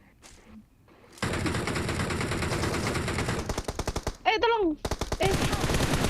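Bursts of automatic gunfire in the PUBG Mobile battle-royale game rattle loudly in rapid volleys after a quiet start, with brief pauses between strings of shots and a voice calling out over them.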